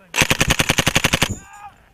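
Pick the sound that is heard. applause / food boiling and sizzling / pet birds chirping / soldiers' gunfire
soldiers' gunfire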